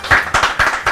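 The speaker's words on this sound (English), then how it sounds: "Why you guys are cheering?" Office audience at a corporate event clapping and cheering in bursts, loud and close, swelling and dipping in quick waves.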